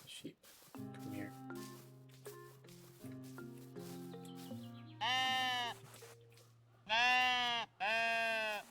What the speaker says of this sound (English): I'm going to go pet the sheep